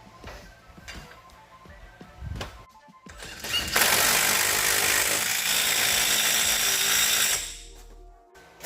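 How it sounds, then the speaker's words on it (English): A power tool tightens the axle nut on a 2017 Ford Explorer during a wheel bearing replacement: a loud, steady whirring burst lasts several seconds, following quieter workshop clatter. "Next, we're going to put the axle nut back on."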